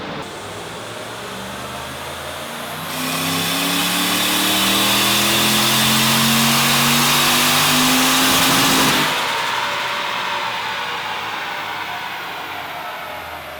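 Nissan Stagea engine on a dyno running on petrol, revving hard with rising harmonics from about three to nine seconds, loud and close, then dropping back to a steady idle-like drone.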